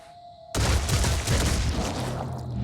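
Gunfire erupts in the Phoenix Point strategy game, a sudden loud burst of shots starting after a quiet moment and rolling on as sustained, dense fire with booming impacts.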